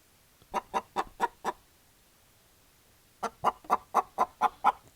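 Rapid chicken clucks from an anti-Trump political TV ad, heard alone in two bursts: five evenly spaced clucks, a short gap, then a longer run of about seven louder clucks.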